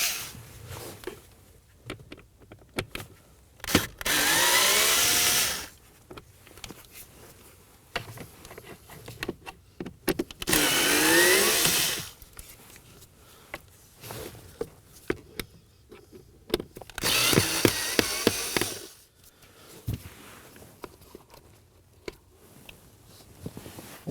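A cordless power driver backs out number 2 Phillips screws around the blower motor of a 2016-2020 Kia Sorento HVAC assembly in three loud whirring bursts, each a second or two long, with small clicks and handling noises between.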